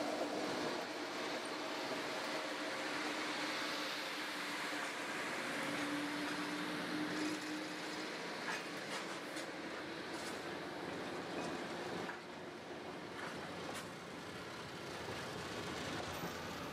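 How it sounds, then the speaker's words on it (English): The Newport and Narragansett Bay dinner train, recently repainted blue, crosses Willow Lane in Portsmouth with a steady, broad rumble of railcars rolling past at close range, with no voices. "the Newport and Narragansett Bay's dinner train consist has been repainted into their blue paint scheme. The train is seen here crossing Willow Lane in Portsmouth."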